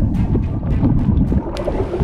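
Strong, fast river water rushes loudly and steadily as a broad roar with wind buffeting the microphone, with no voices.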